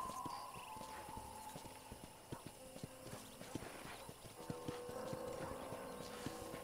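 Steady clip-clop of horse hooves at a walking pace in the video game Red Dead Redemption, with a brief whinny near the start, set against a faint electronic background hum.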